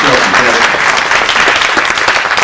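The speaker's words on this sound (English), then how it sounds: "Everybody give her a round of applause." A room of people at a political meeting gives a loud round of applause, dense continuous clapping filling the whole clip, with a few voices mixed in.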